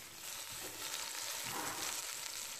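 A 1.5 kg veal roast sizzles in hot oil in a cast-iron pot, giving a steady, close, crackling hiss with no voices.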